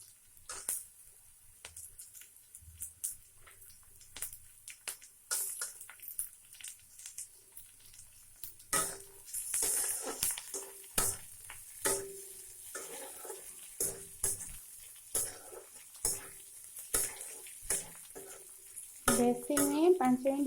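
Roasted peanuts being fried and stirred in a pan on the stove give a faint sizzle with scattered scraping clicks from the spoon, the stirring growing busier and louder toward the end.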